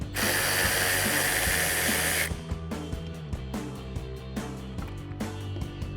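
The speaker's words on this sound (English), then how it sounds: "grab a 7mm socket and a ratchet and go ahead and get these removed" A 7mm socket on a ratchet works a rear bumper bolt on a 2019–2024 Chevrolet Silverado 1500, starting with a strong spray-like hiss, then a close, quick, steady ratchet clicking.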